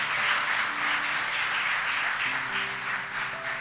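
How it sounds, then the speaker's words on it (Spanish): A church congregation at a Sunday service applauds in a steady, moderately quiet wash of clapping, with faint sustained tones underneath and no talk. "Aplauda al Señor."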